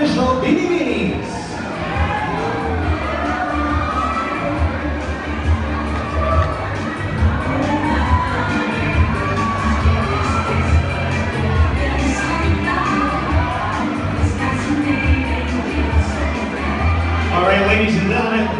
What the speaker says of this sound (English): please start cheering for your favorite Binibini!